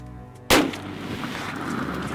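A single loud shotgun blast goes off during a youth turkey hunt outdoors, a sharp crack followed by a long rolling echo and lingering ambient noise.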